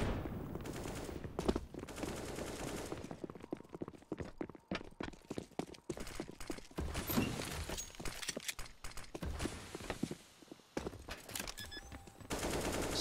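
Rapid automatic gunfire sprays in a Counter-Strike match on the Nuke map, with dense bursts of shots spread through the whole stretch alongside sharp clattering impacts, loud and close with no talk over it.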